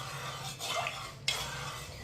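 A spoon stirs sweet vermicelli (seviyan) cooking in a pan, giving a steady soft scraping with a sharper clink near the middle, close and continuous with no voices.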